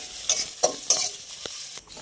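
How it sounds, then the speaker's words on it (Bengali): Onions and chilies frying in a pan for chowmein, with a soft steady sizzle and several scraping stirs of a spatula, close and fairly quiet. "হালকা ভাজা ভাজা করে নেব।"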